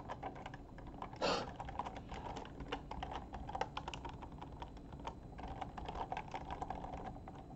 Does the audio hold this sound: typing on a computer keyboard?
yes